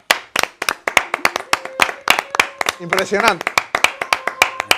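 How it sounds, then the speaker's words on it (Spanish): A small group claps in uneven, sharp bursts that start and stop, close and fairly loud, while voices talk and exclaim briefly over the clapping. "Un aplauso."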